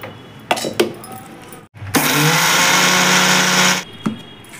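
Mixer grinder powdering roasted sesame seeds for nuvvula pachi pulusu: a loud, steady whirring roar running about two seconds, with brief clicks and short bursts before and after.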